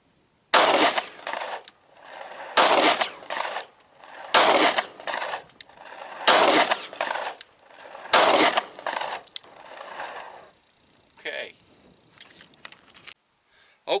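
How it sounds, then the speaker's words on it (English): A 9mm Shield pistol fires five 115-grain full metal jacket handloads at a target 5 yards away. The shots come as five sharp, evenly spaced cracks about two seconds apart, each trailed by echo, with quieter clinks and movement afterward. "I got 5 rounds of 115 grain full metal jacket hand loads in the shield. We're going to put that on target at 5 yards"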